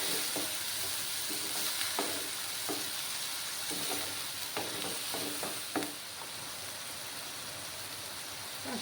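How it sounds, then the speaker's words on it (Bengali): Spice masala for a small fish curry fries in a pan with a little water, giving a steady hissing sizzle punctuated by occasional scraping stirs. "দিয়ে মশলাটাকে ভালো করে কষিয়ে নেব"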